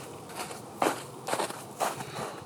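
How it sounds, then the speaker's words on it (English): Footsteps crunch through trees and undergrowth in three heavy, evenly spaced treads, each a short rustling crackle, moderately close against a quiet outdoor background. "I swear I heard some footsteps."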